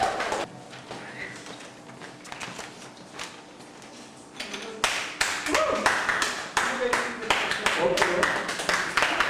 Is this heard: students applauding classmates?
yes